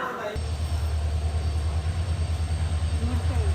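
The locomotive of the Porbandar–Motihari Express approaches with a loud, steady low rumble that pulses gently, growing heavier after a brief quieter start.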